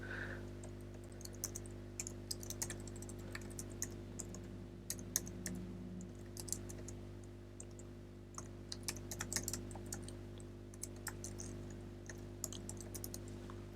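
An email address is typed on a computer keyboard, giving quiet, close key clicks in uneven bursts with short pauses against a low steady hum.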